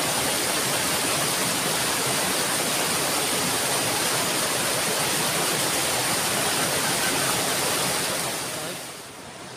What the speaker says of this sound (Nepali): यस्तो मजाले यो खोला चाहिँ बसेको छ।